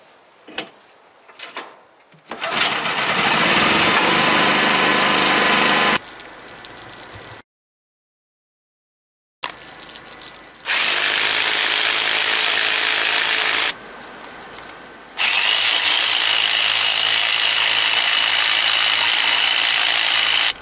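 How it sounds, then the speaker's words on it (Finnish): An electric drill powered by a 3.5 kW generator bores 16 mm holes into stone in several long, loud grinding bursts separated by pauses, with a short near-silent gap midway. "Kiveen poraan 16 millisiä reikiä, joihin asetan kivikiilat."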